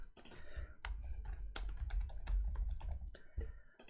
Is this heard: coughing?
no